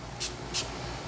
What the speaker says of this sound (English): And then you can spray it on